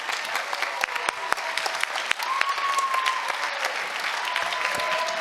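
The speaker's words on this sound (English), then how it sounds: "And a big round of applause for Emmett Carnahan" An audience at a book launch celebration applauds the cast of young actors, a few sharp early claps swelling into steady moderate clapping while a voice speaks over it.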